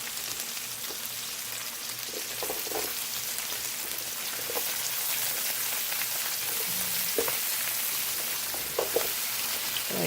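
Vegetables sizzle steadily in a skillet alongside cooking sausage for an Italian sausage, peppers and onions meal, a constant close frying crackle with occasional stirring scrapes and no talking.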